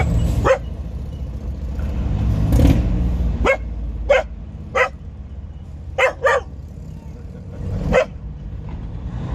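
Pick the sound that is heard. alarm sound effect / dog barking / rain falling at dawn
dog barking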